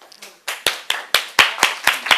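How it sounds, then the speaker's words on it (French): Hands clap in a steady rhythm, about eight sharp, close claps spaced roughly a quarter second apart after a few softer taps, loud and crisp, with a small group joining in. "nous t'applaudissons"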